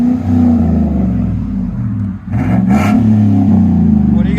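A 2015 GMC Sierra All Terrain Z71 pickup with a 5.3L V8 and dual Carven R-Series exhaust, idling with a deep, loud burble that briefly drops and then swells into a throaty rev, recorded up close.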